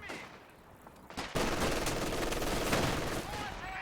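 Machine gun fire in a competitive shooter match erupts suddenly and loudly after a quieter start, a rapid continuous burst of rattling shots that holds steady for a couple of seconds.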